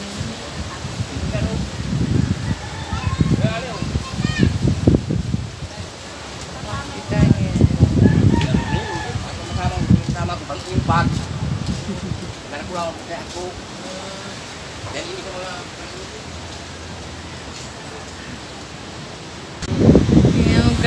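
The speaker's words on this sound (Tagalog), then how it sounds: "Oh, ang lakas ng hangin." Strong wind gusts by a rough, choppy sea, roaring and rustling in swelling bursts that buffet the microphone, with people talking intermittently over the noise.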